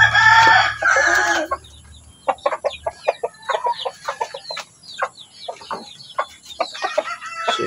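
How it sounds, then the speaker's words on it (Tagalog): Heritage breed chickens on a Filipino farm: a burst of loud crowing and clucking opens, followed by a scattered run of short, sharp clucks and calls from several birds, some near and some farther off. "ito yung ating mga heritage breed na manok"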